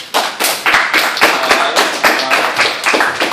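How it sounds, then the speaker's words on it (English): A football team claps close by, loud sharp individual hand claps in an uneven rapid rhythm from a small group rather than a large crowd. "Y'all give them a round of applause."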